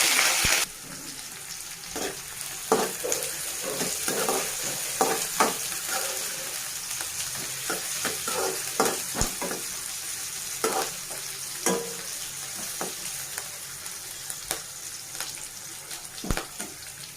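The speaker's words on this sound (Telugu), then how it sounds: "Onion fry అవ్వనివ్వాలండి." Green chilli and onion frying in hot oil with tempering spices for a Telangana-style okra tamarind stew, a steady close sizzle broken by irregular spatula scrapes and clinks as the pan is stirred.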